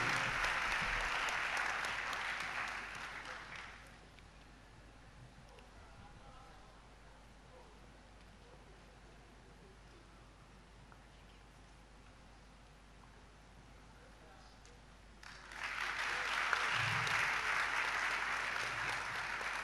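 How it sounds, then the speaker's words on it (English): Audience applause at the WAEC Distinction Awards ceremony for top WASSCE students, a loud burst of clapping that fades into a long quiet stretch of room noise before a second round of applause rises near the end. "Louder applause, louder applause, louder applause."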